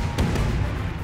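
Gunfire in the video game The Culling, a loud, dense, low booming rumble with a couple of sharper bursts close together, with no talking.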